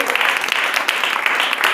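A church congregation applauds during a praise gathering, a steady dense wash of clapping at moderate loudness, with a voice partly mixed in underneath.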